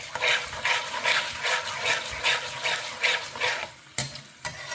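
Spices for a jeera samba biryani fry in a pan, with rhythmic scraping strokes of a stirring spoon over a sizzling hiss, close and steady, then a couple of sharper knocks at the end.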